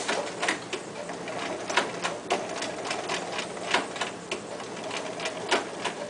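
A sewing machine stitching a fly zipper runs in a steady, rapid mechanical clatter of close needle strikes, with no talk over it.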